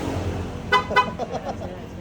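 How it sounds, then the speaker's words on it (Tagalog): Two quick, bright horn toots in succession from a nearby Yamaha NMAX scooter, followed by a few fainter tonal sounds over a low background hum. "sa mga busina na ganyan"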